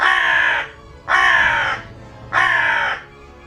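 Three loud, harsh croaks from a raven, evenly spaced about a second apart, close by with quiet gaps between them.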